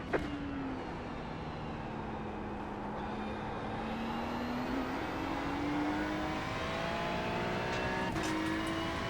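Ferrari race car engine in iRacing, a Ferrari Challenge race at Mid-Ohio, droning steadily at high revs with gear shifts and pitch changes throughout, loud and continuous with no talk.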